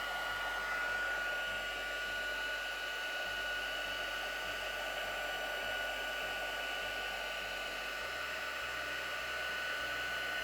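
A heat tool blows steadily on cotton card to melt black embossing powder around a dream catcher design, giving a constant close whooshing hum with a faint whine and no pauses.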